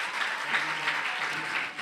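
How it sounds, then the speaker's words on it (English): An audience at a schools' public speaking competition applauds in a steady, moderately loud wash of clapping that tapers slightly at the end. "Let's give her another round of applause."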